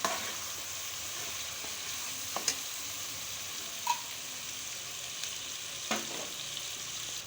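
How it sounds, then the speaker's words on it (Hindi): Beef for korma fries in the oil left after frying onions, a quiet, steady sizzle broken by occasional stirring clinks, with no talk. "ये देखें कि अब जो है बीफ को माँ जी फ्राई कर रही हैं"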